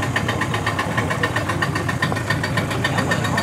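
A boat engine idles close by at the dock of Kokon Lodge, Bassa Point, Grand Bassa County, Liberia, a steady throbbing rumble with a regular pulsing knock, running alone without talk.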